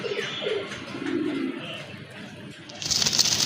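Soft, low cooing of pigeons, including a male Raj Golla pigeon, repeats through the first half, with faint chirps and a brighter hiss of background noise rising near the end.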